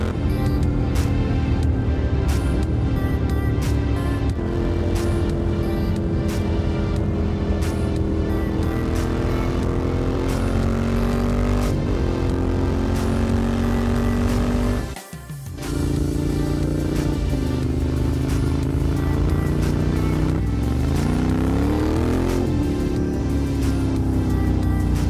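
Moto Guzzi cafe racer motorcycle built by Blacktrack Motors, its engine loud and close, revving and shifting through gears in long sweeps, with a brief drop near the middle before it pulls hard again.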